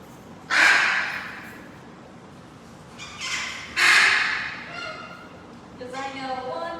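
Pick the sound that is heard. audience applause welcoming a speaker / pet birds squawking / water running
pet birds squawking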